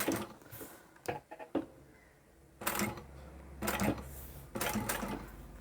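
A sewing machine stitches fabric forward and back in place while a bag is assembled, several short bursts of mechanical whirring and needle clatter separated by pauses and a few clicks, close and moderately loud.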